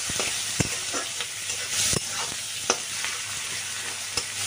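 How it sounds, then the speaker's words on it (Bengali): Chopped onion frying with a cumin tempering, a steady bright sizzle with repeated sharp taps and scrapes of a spoon against the pan, close and fairly loud, with no talking. "দেখো, এইভাবে কুচানো পেঁয়াজটা ভেজে নিচ্ছি"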